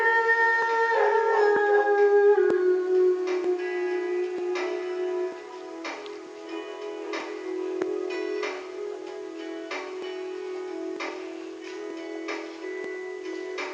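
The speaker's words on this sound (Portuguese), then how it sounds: "Porque fica latindo, sai tudo na filmagem." A dog howls in long drawn-out wails at home, with a sustained tone sliding down early on, then wavering cries and short yelps continuing, fairly close and loud for the whole stretch.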